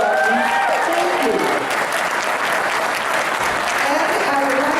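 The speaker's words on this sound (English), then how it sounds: "Give him a big round of applause" An audience at an African American caucus meeting of the California Democratic Party breaks into loud, sustained applause, dense clapping filling the room while voices speak over it.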